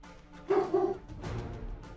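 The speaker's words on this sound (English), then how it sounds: "I made my dog bark." A dog gives two quick, close barks in succession, followed by a softer bark or two against a low room background.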